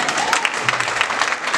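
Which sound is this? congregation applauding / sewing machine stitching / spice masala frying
congregation applauding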